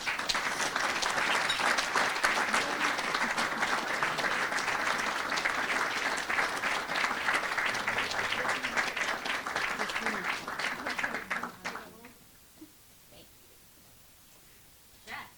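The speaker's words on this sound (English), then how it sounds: "if everyone would please give them a round of applause for their service" Long round of applause from an audience at a student awards event, dense steady clapping that lasts about eleven seconds, then stops abruptly, leaving quiet room noise with faint rustling.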